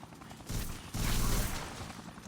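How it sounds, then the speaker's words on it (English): Machine-gun fire from a helicopter in the video game Dead Rising, heard as two loud bursts of rapid shots, the second longer, over a faint background. "There's a fucking helicopter."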